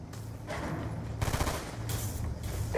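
Gunfire in a first-person shooter video game played with handguns: a few dense bursts of shots over a continuous noisy game background, moderately loud.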